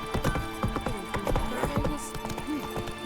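Roach, Geralt's horse in The Witcher 3, gallops in a rapid clip-clop of hooves, close and steady, with a brief whinny mixed in and faint game sounds behind.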